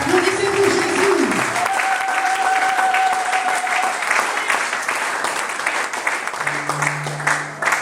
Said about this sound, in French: clap your hands for Jesus in this place